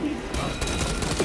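Dense, continuous gunfire in the co-op video game Space Marine 2 makes a loud, rolling barrage of overlapping shots with no break.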